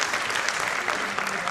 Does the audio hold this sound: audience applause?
yes